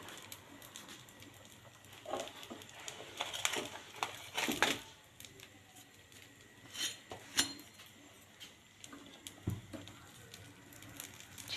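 Garlic, black pepper and cumin being lightly tapped and crushed for a mushroom dosa, scattered clinks and soft crushing knocks in irregular bursts, fairly quiet and close.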